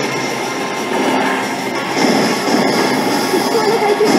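A train in the video game Border Break rumbles along steadily with a continuous mechanical roar and faint rail squeal, loud and close, with a voice briefly audible over it.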